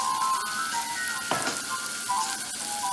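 Ground garlic with turmeric and salt frying in a pan for keema, a steady close sizzle with a brief louder burst of stirring midway and no talk.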